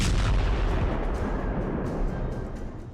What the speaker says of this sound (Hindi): जोरदार धमाका हुआ